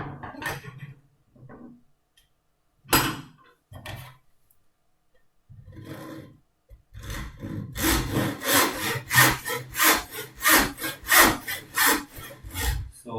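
A hand saw cuts through wood for a phone holder project. Scattered light scrapes and pauses give way to a steady run of loud, close, rhythmic back-and-forth strokes in the second half.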